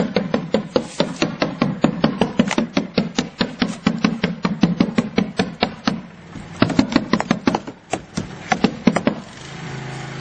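Roofers drive nails into shingles with hammers, each sharp, close strike landing in quick, steady succession, several dozen in a row with a short pause partway through before the pounding resumes.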